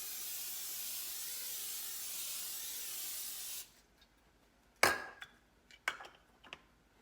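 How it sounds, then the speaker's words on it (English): Pam seasoning cooking spray hisses steadily onto a pan for several seconds, then stops, followed by a few sharp metallic clinks of pans and cookware being handled nearby. "we gotta spray our pan. And with the Pam seasoning"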